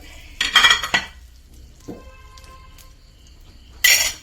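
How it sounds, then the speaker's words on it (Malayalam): Crushed ginger and green chilli dropped into hot oil left from frying prawns: a loud burst of sizzling and pan clatter, a quieter stretch of stirring, then another sharp sizzle near the end. "ഇനി ഇതാ ഈ എണ്ണയിലേക്ക് തന്നെ കുറച്ച് ഇഞ്ചി പച്ചമുളകും ചതച്ചത് ഇടുക."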